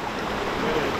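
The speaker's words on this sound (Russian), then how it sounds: "Вот кажется река, да?" A hot river, around 50 to 60 degrees, flows nearby with a steady, even rush of moving water and no voices over it.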